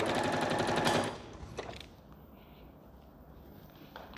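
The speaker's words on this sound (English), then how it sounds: "I'm going to back tack." Sewing machine back tacking a 1.5 cm seam on a christening gown, a loud rapid mechanical chatter for about a second, then stopping to quiet handling noises.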